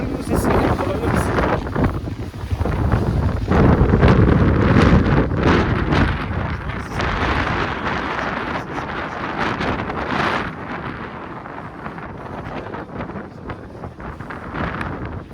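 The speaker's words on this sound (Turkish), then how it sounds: "Şu rüzgarın sesini alabilir misin?" Strong gusty wind buffets the microphone during a snowy ATV trip in the Ganos mountains of Tekirdağ, roaring in uneven surges while people talk nearby.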